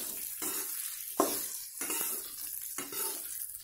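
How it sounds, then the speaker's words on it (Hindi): Soaked sabudana is tossed and mixed in a hot oiled pan for Maharashtrian sabudana khichdi, giving a bright, close sizzle broken by rhythmic scraping strokes of a spatula. "अब हम अच्छे से इसे मिक्स करेंगे।"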